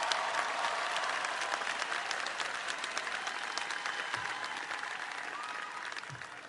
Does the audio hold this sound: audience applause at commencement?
yes